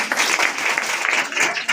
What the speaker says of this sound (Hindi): चलिए आप लोग जोरदार ताली से स्वागत कर दें।